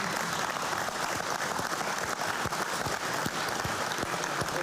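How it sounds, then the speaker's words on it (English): A dense, steady roar of crowd applause and cheering at the 1987 Bathurst motorsport race, with scattered sharp claps poking through a continuous wash of noise across the whole stretch. "I love the way you're cheering me on"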